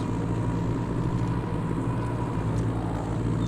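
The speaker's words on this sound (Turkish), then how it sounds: "Şu büyük traktörü deneriz. Onu hiç çalıştırmadık. Çalışsın biraz." A big tractor engine idles steadily in Farming Simulator 22, a constant low rumbling drone that holds at an even level throughout with no talk over it.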